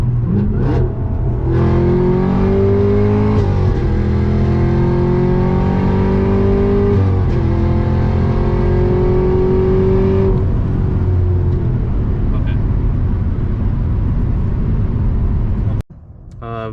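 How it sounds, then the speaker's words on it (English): A Camaro ZL1 1LE accelerating hard with a rising supercharger whine over the engine roar, climbing in pitch through several gear pulls, loud and close, then cutting off abruptly; Rotofab intake, supercharger lid plate removed. "so people know what the whine sounds like with just a rotofab intake"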